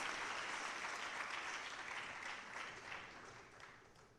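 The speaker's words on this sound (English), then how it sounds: "may I have another round of applause for the Jamaica Military Band" Audience applause for the Jamaica Military Band at the opening ceremony of the Energy & Climate Partnership of the Americas in Jamaica, a sustained, moderately distant wash of clapping that gradually fades toward the end.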